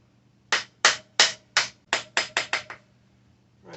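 Light hammer taps driving a dirt bike's front wheel axle through a Husqvarna TE250i hub, eight sharp metallic knocks in quick, slightly quickening succession, close and alone.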